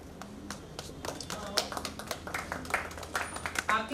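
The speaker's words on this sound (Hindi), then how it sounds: "आपकी जोरदार तालियां बच्चों के लिए उत्साह का काम करती हैं।" An audience at a children's event claps in scattered, uneven bursts that build toward the end, fairly close and moderately loud, with a little talk mixed in.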